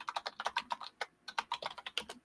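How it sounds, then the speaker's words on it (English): Rapid, uneven taps come from a computer keyboard with epoxy under its keys, giving muted, close clacks in quick bursts with short pauses, and no talking over them. "I did get a new keyboard that is slightly less clicky because I got epoxy underneath the keys"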